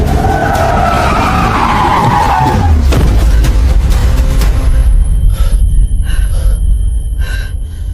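A car with failed brakes skids loudly, a long close tire screech sweeping down over engine roar, followed by harsh scraping and rattling noise.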